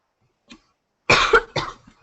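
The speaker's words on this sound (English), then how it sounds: "I have a little bit of a cold, so you hear some coughing" A faint throat sound, then two harsh coughs in quick succession, close and fairly loud in an otherwise quiet room.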